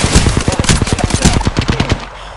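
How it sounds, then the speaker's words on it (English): Rapid automatic gunfire in a shooter video game, loud close bursts of evenly spaced shots in quick succession for about two seconds before cutting off. "I am taking fire,"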